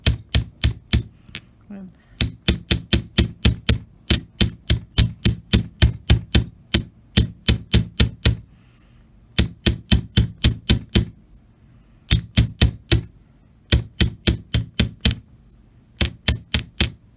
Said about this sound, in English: you might not want to listen to me hammering everything